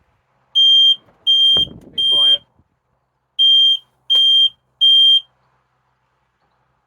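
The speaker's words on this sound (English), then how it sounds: "So you've got your smoke alarm. See, that works." Loud, piercing motorhome smoke alarm beeps during a test in two groups of three, with a brief spoken remark between the first beeps.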